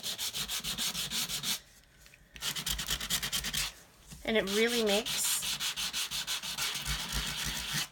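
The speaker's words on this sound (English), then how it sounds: "of course I can keep sanding and get more detail" Rapid back-and-forth rasping of sandpaper on white core cardstock, rhythmic and close, briefly pausing twice while a voice speaks softly.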